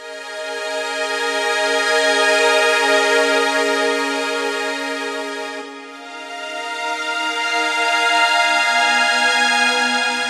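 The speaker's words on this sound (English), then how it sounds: "Pretty sort of standard saw wave pad." An Ensoniq VFX-SD synthesizer plays a standard saw wave pad, a loud, bright sustained chord with rich harmonics that dips briefly in the middle and then swells back, with no one talking.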